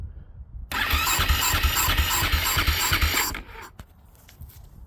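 A 2010 Husaberg FE570 motorcycle engine is cranked, catching into a loud rough burst for about three seconds before dying away into near silence, heard close up with no voices.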